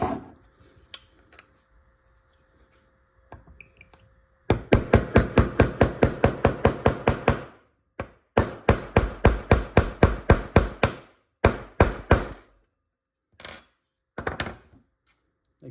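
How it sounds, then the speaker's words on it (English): Punch and hammer drive a pin into a VFC HK53/G3 airsoft hop-up unit: close, sharp metallic taps in rapid rhythmic bursts separated by short pauses, with no talking. "you're gonna wanna punch that pin down using a punch and a hammer"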